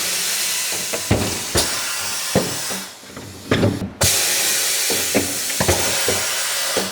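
Air hisses loudly and continuously as a tire bead is broken loose from a clean wheel, with several sharp clicks and knocks and one brief cut-off near the middle.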